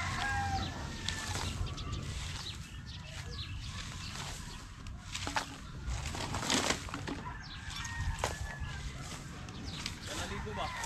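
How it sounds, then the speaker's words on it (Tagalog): Birds, apparently chickens and fowl, cluck and flap their wings amid a busy outdoor scene near fishermen hauling a net, with voices talking over the steady background. "Dami ng ibon."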